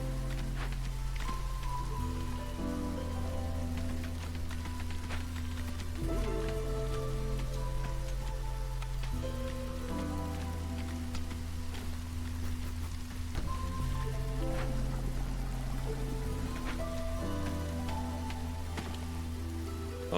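Steady drizzle falls in the video game Against the Storm, a dense continuous patter of raindrops over a low ambient music bed, even in level throughout with no voices.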